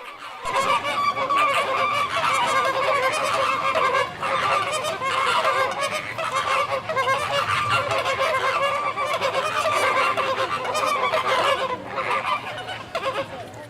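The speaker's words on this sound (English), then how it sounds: "Here is a shallow pond inhabited by flamingos." Flamingos at a shallow pond give a dense, continuous chorus of loud honking calls that overlap throughout, with no talking.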